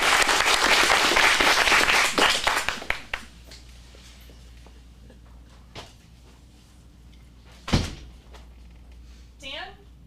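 Audience applause at an adult acting-studio script showcase in Phoenix: a dense burst of clapping for about three seconds that quickly dies away into a quiet room, followed by a few scattered thumps and brief voices.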